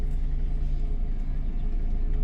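A car in reverse gear creeps off slowly as the clutch is gently released, its engine a low steady rumble close by, with no revving and no voices.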